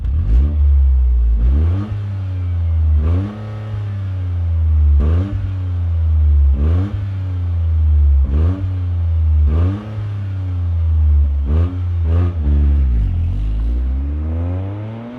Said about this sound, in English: let's fire up this GR Corolla and hear what it sounds like